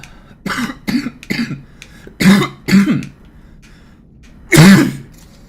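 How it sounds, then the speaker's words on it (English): Someone playing a Halo 2 speedrun coughs and clears their throat in separate bursts, about six harsh close-up hacks spread out with quiet gaps, the last one loudest. "Can't stop coughing"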